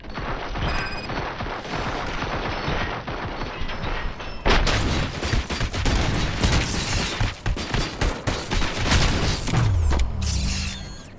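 Gunfire in Robocop Rogue City, a sustained barrage of loud rapid shots and mechanical clatter starting after a few seconds of tense ambience and continuing to the end, with a low rumble closing it out.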